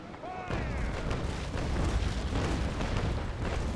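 A naval cannon broadside booms in the video game Naval Action Legends, a sustained heavy rumbling roar of overlapping cannon blasts with a voice talking briefly at the start.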